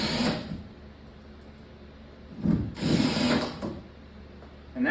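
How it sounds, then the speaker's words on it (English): A power drill drives screws into a real stone climbing hold in two short close bursts of whirring motor and grinding bite, separated by quiet pauses, with a third start at the very end. "finally finish up by installing your remaining 2 screws in this"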